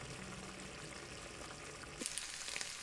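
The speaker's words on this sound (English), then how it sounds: "listen to that sizzle as that sauce reduces down and just infuses that spaghetti" A soft, steady sizzle of tomato sauce reducing in a pan with spaghetti for spaghetti all'assassina, close and quiet, with a few small crackles and stirring sounds near the end.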